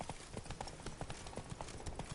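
Roach, a horse in The Witcher 3 set in Toussaint, gallops with steady rhythmic hoofbeats that clop close and clear throughout, with no talk over them.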